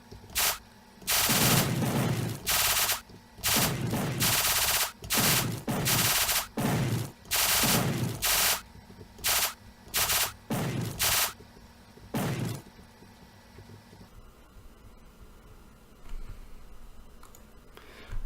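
Alien ship firing in a Unity-built Asteroids video game, bursts of rapid electronic shots in loud repeated volleys that stop partway through, leaving quieter game sounds with no talking.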